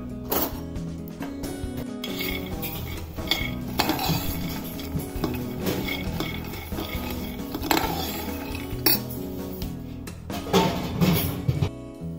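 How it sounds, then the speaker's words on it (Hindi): Peanuts being stirred slowly in a frying pan over a low flame give off a steady rattle and scrape. Metal clinks and rustles of the nuts repeat throughout, heard up close with no talking. "तो मैं इसमें डाल के आपको ना थोड़ा सा धीरे धीरे स्टिर भी करना है और इसको बिल्कुल लो फ्लेम में रखना है।"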